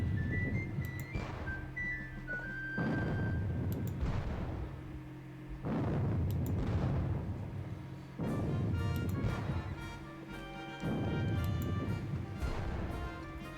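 Repeated heavy cannon blasts roll out at steady intervals of roughly three seconds during a Battle of Waterloo war game, each a loud, booming burst with a long rumbling tail, set against a continuous low battlefield drone.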